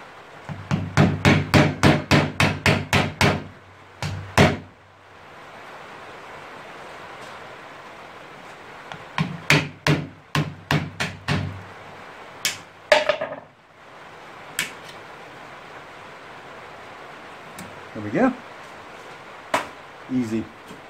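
Hammering during repairs to a farm bike: a rapid run of about ten sharp metal blows, then a second cluster of strikes, with scattered single hits and some clattering later on.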